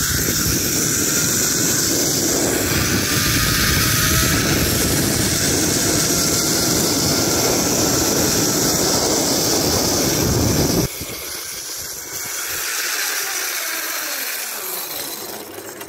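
A homemade zipline pulley with an aluminium washer and a ski-lift tow-bar holder runs along a steel cable, making a loud continuous whirring roar that stops abruptly, then a quieter fading hum.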